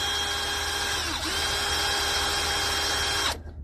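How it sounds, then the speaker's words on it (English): A power drill bores steadily into the hard transmission pan of a 2018 Ram 2500 with a 6.4 Hemi, a continuous loud whine that dips briefly mid-way before running on and cutting off near the end. "make sure you have a high quality drill bit"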